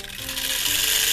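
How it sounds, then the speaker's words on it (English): An antique Marx Dare Devil Flyer wind-up tin toy runs after its propeller is released, giving a close, steady buzzing whir from the spinning prop and spring mechanism that builds slightly over a second. "Wind it up. Release the prop stop."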